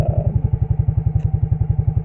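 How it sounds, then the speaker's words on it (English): A four-wheeler engine idles nearby with a steady, rapid thumping chug, loud and rhythmic, with a light clatter over it. "I hope you can hear me over the four-wheeler"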